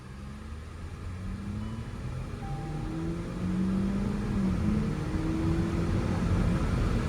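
A 2008 Saab 9-3 2.0t on a test drive after a dealer auction, its engine droning steadily from inside the cabin with a low rumble and gently rising and falling tones, no voices.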